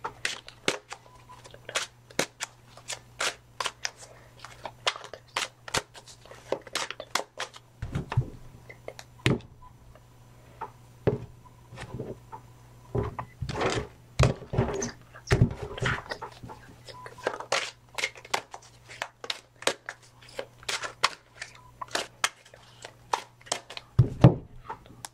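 Playing cards shuffled repeatedly in a quiet indoor room, sharp riffling bursts and snaps recurring irregularly throughout, close and fairly faint over a low steady hum, with no talking.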